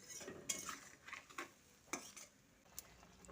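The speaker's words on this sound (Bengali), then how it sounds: "এবার জলটা দিয়ে শিমের সঙ্গে ভালো করে মিশিয়ে নিচ্ছি" Green beans (shim) are stirred with water in a pan, with faint, scattered scrapes and clinks of a utensil against metal and a quiet background.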